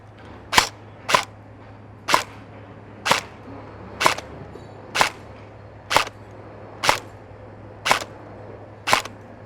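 An EMG F4-Defense PDW-X airsoft electric gun running on a 7.4V battery fires about ten single sharp shots at an even pace, each crisp and close, with no talking.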